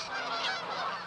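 Geese honk continuously in a short, dense burst from a flock in Regina that has delayed its departure south. The calls overlap and sound fairly loud, with no talking.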